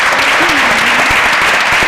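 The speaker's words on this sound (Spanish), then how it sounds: "Pues un aplauso también." Close, loud applause fills the room at a conference on equality policies aimed at men, a steady dense patter of many hands clapping at once, with no voices rising above it.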